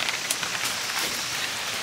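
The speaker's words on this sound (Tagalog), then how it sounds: "Ayan na, umuulan na guys." Rain beginning to fall outdoors beside blackberry bushes, a steady soft patter of drops spread evenly across the whole stretch with no voices.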